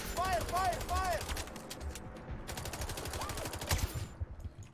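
Gunfire in the video game Sniper Ghost Warrior Contracts, rapid clusters of sharp repeated shots ringing out over several seconds, with a high warbling tone and some background sound mixed in.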